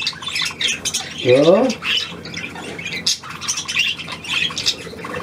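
A gull lets out a loud, harsh squawking call close by, with someone speaking quietly around it.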